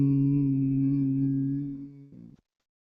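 A single voice tones a long, low, steady Om in imitation of the sun's sound, held close and clear before fading into a brief lower murmur and silence.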